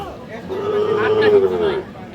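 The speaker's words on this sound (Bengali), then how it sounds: "আর এই পাশে কিন্তু আমাদের শরীয়তপুরের কিছু গরু কালেকশন হয়েছে" A Sahiwal bull calf at a busy cattle market in Aftabganj lets out one loud, drawn-out moo close by, with crowd voices and chatter in the background.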